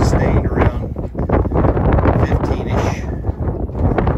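Gusty wind roars steadily around a Hurricane Wind Power White Lightning Vector 2.0 turbine, winds sustained near 15 and gusting into the 20s, with loud, constant buffeting that swells and dips throughout.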